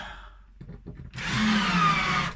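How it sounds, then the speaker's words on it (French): Cordless drill driver running steadily for about a second after a few short clicks and handling noises, close and fairly loud, with a whining motor tone. "Perceuse dévisseuse."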